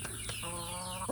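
Free-range village chickens cluck in a brief, close burst of several short, steady calls, with no talk over them.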